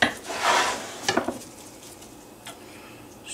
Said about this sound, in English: Take your knife, put it in nice and deep, and just make an X.